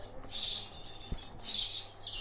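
Young wild birds at a wildlife care station give shrill, insistent high-pitched begging calls in two long bursts, close and fairly loud, with a faint low knock between them, no talk.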